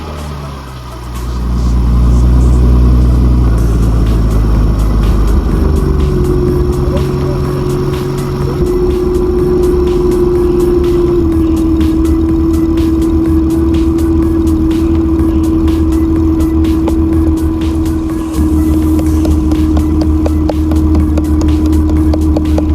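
A BMW 440i with the B58 engine fires up from cold, with a loud crank and a high idle that settles into a steady drone and a faint whine, close by, with voices briefly over it.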